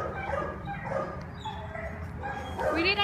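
Shelter dog in a kennel giving short yips and whimpers, close and moderately loud, with someone talking over it and a sharp whine rising near the end.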